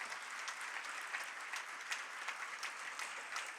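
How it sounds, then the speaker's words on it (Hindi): Audience clapping at a live religious discourse broadcast from Nagpur, a faint, steady patter of many hands in a large gathering, sustained without pause for several seconds. "अभी तालियां कमजोर है"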